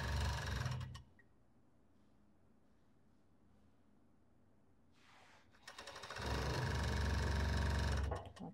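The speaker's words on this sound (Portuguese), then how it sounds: "Vou costurar aqui mais um pouco" A sewing machine stitches fabric for a long-sleeved robe, running in a loud, close mechanical whir at the start and again near the end, with a quiet pause between the two bursts and no talk.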